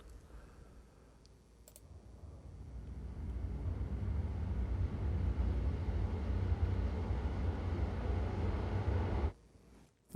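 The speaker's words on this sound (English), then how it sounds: "Let's hear a drone." A low, steady synthetic drone from the Risenge Pro instrument by Keepforest swells gradually over several seconds, holds as a dense rumbling bed, then cuts off abruptly near the end.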